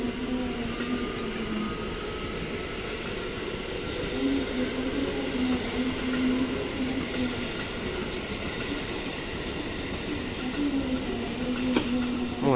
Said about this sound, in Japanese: 向こうからやってきたのは下り方面の新快速電車